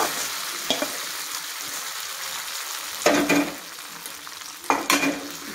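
Fried ginger, reddened in hot oil, is poured into coconut milk pongal, giving a few short bursts of sizzle and splash that stand out over a quiet background.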